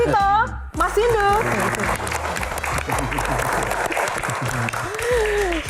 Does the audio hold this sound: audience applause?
yes